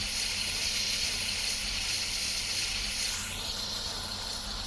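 Steady, loud steam hiss from the injector of a PRR S1 steam locomotive in Train Simulator, a continuous broadband rush that holds for the whole stretch with no voices over it.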